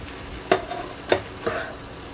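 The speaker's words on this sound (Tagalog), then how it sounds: "Halu-haluin lang natin yan hanggang sa mahalo ng maayos yung aromatics natin tsaka yung tofu" Tofu with onion leeks and green chili stirred in a hot pan, three distinct spatula scrapes against a light sizzle, close and clear with no talking.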